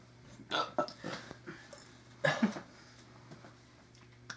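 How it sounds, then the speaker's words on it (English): A couple of short, throaty burps after drinking beer rumble close by amid quiet breathy vocal sounds. "Like any beer, it'll make you burp"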